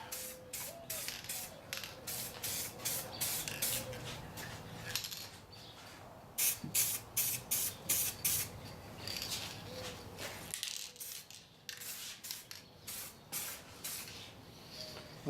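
Spray gun laying candy orange coats onto a Vierbike Quadra Sprint part, coming in repeated close hissing bursts with short pauses between passes.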